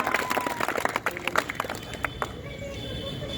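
A crowd at a farmers' rally in a village claps to welcome a Member of Parliament, a dense patter of hand claps in the first couple of seconds that thins and fades into a steady background hum.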